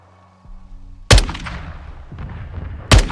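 Sniper gunfire during a night mission in Call of Duty: two sharp, loud, close rifle cracks about two seconds apart, each followed by a rumbling echo over low background ambience.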